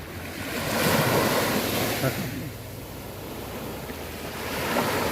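Calm sea waves wash onto Hat Nam Rin beach in Bang Chang, Rayong, as a soft continuous surf hiss that swells and eases, with some wind noise.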